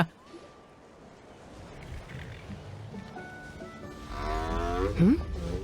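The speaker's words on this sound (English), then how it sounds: "Why was there a cow noise?" Cow mooing in Genshin Impact, a single low drawn-out moo rising near the end over a bed of game ambience and music.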